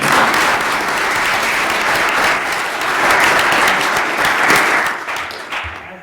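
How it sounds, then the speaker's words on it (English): Audience applause at a state mock trial finals, a full, even wash of clapping from a crowd that holds steady for several seconds and then fades out at the end. "so I'd like to give you another round of applause"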